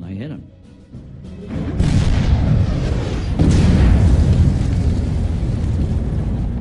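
A heavy tank cannon boom erupts after a short quiet stretch, followed by a sustained loud rumble with a second blast midway, like cannon fire and explosion.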